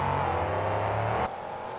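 Two monster trucks, Loud Pedal and Bolt Hill, roar off the start line together in a stadium drag race, with a loud, steady engine drone that cuts off abruptly near the end.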